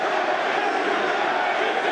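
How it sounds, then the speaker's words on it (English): A boxing arena crowd roars steadily for Andy Ruiz during his heavyweight bout with Jarrell Miller, a dense, sustained wash of cheering and shouting that holds loud and even throughout. "Crowd trying to get behind Andy Ruiz."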